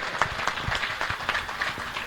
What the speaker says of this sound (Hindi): इनके लिए जोरदार तालियों से स्वागत किया जाए।